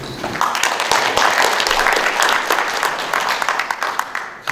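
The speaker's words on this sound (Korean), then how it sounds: "우리 선생님 큰 박수로 모시겠습니다." Loud, sustained audience applause welcoming a speaker at a lecture, a dense wash of many hands clapping that carries on steadily throughout before cutting off.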